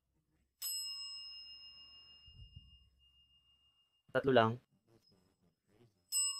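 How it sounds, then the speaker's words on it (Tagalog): A bell in an abandoned hospital in Taipei rings in two bright, sustained bursts with long ringing tails. A short spoken voice comes between them in an otherwise quiet space. "Na ang kampana ay nagsasabog na parang baliw."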